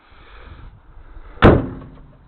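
A door on a 1957 Chevy 4400 truck shuts with a single loud, close metallic thud after faint handling noise, then rings down briefly.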